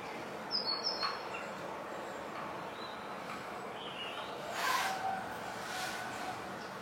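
Birds chirp and call outdoors in the morning, faint short tweets scattered over a steady background hiss, with no talking.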